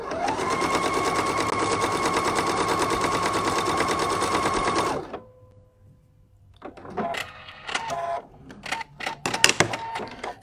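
A sewing machine quilts straight lines along a ruler at a 45-degree angle, a loud, fast steady stitching rattle for about five seconds before stopping, followed by scattered clicks and clatter from handling the machine and fabric.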